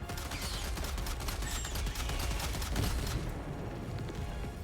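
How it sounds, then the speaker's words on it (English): Rapid crackling bursts and booming blasts from explosions in the video game Helldivers, dense and loud for about three seconds before the sharp crackle drops away, leaving a low rumble. "That was an explosion."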